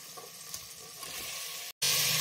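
Beef pieces sizzle as they are dropped into hot oil with ginger-garlic paste for a beef chilli dal curry. A soft, steady frying hiss cuts out briefly, then returns as a louder, brighter sizzle near the end.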